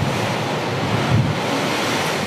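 Loud, continuous roar of strong wind buffeting the microphone over crashing surf on the Gold Coast, Queensland, with no voices.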